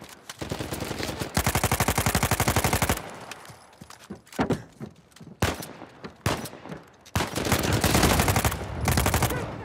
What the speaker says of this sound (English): I'm taking this dude out with this little dinky gun